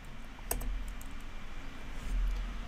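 Keys clicking on a computer keyboard as a command is typed, with a few close, light taps spread over a quiet background hum.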